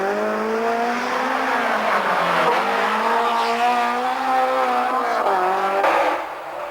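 A BMW M3 rally car races past at speed during a 1993 rally stage in Saint-Marcellin, its engine note loud and sustained with rising and falling pitch and a faint tire squeal, fading slightly at the end.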